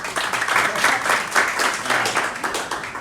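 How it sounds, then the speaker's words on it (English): An audience claps at a comedy talk, a steady, dense patter of many hands that swells in soft waves and stays fairly close, with no voices over it. "Clap your hands if you don't know who Vivek is."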